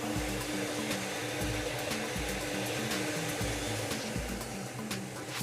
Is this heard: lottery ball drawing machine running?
yes